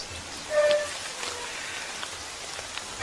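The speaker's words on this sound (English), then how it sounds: "it's turned out to be the rainiest of rainy seasons" Rain falls steadily in a jungle during the rainy season, a soft, even hiss of drops on foliage with a few faint bird calls, no talk.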